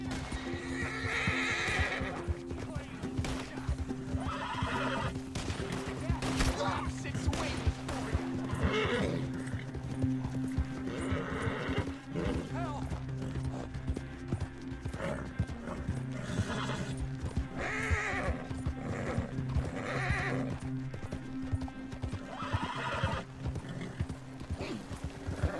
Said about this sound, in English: Cavalo, mantenha a calma.